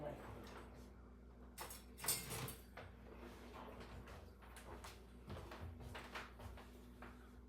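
Stainless steel utensil stirring ricotta in an Instant Pot: faint, irregular metallic scrapes and clinks against the pot, with a low hum underneath.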